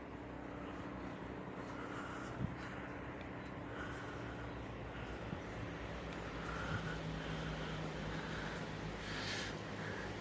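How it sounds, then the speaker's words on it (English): Distant road traffic heard from beside an old canal feeder and aqueduct, a faint continuous roadway hum with soft swells of passing vehicles and no voices. "You can hear the traffic."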